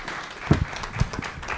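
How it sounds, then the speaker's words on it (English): Applause from a conference audience at a high-level forum on forced displacement, a short, fairly faint patter of hands with a few louder claps standing out, somewhat diffuse in the room. "a big round of applause to everybody"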